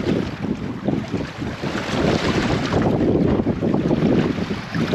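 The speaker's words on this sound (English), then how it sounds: "A little bit of wind there, not enough to worry about." Wind buffets a small fishing boat at sea, a steady rough roar of wind noise over the sound of water and waves. It stays loud throughout with no voices.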